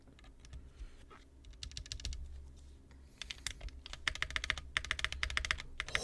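Steady typing on an Aaru65 mechanical keyboard: quick bursts of clacking keystrokes, close and fairly quiet at first, growing denser and louder in the second half, with no talk.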